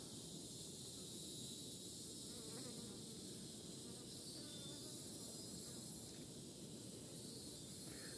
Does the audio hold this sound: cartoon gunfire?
no